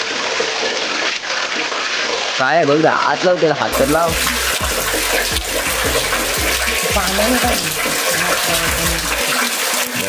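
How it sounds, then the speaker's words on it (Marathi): Water gushing out with force in a village house, a loud, steady rushing roar close by, with people talking over it. "लय पाणी फोर्सनी येत आहे"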